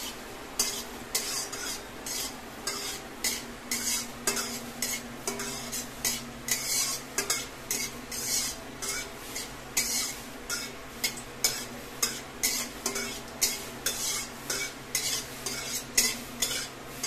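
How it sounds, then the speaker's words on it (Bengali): Cumin seeds and bay leaves fry in hot oil with a light sizzle while a spoon scrapes and stirs the pan in a steady repeated rhythm, close and clear. "জিরে তেজপাতাটা ভাজা ভাজা হয়ে গেল।"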